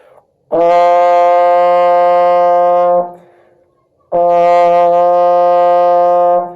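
Two long, steady trombone notes on the same low F, played in first position, each held about two and a half seconds with a short gap between, loud and close.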